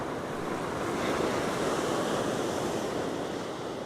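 Ocean waves break on Dundowran Beach in a steady, broad rush of surf with some wind noise, loud and continuous with no distinct individual crashes.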